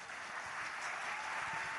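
Steady applause from an awards ceremony crowd, a dense continuous clapping wash without speech.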